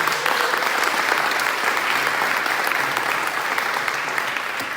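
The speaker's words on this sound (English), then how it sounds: "Applause for you." Audience at a tech meetup clapping for the first speaker of the evening, a steady even wash of applause from a moderate crowd, continuous and fairly close throughout.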